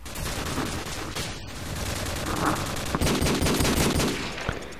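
Rapid automatic gunfire from a Call of Duty 4 match on the Overgrown map, with dense bursts and a steady rattle of shots running the whole way through, loud and close, with no talking.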